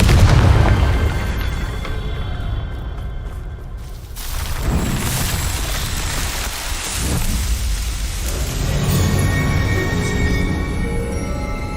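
Confringo explosion spell in Hogwarts Legacy: a heavy, loud boom at the start, followed by crackling, rumbling debris and a second softer surge of noise that rolls on and tails off, with no voices.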